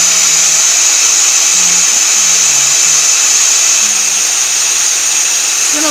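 A heat tool blows steadily while melting embossing powder on a Christmas card, a constant loud whirring hiss that holds at the same level throughout with no talking.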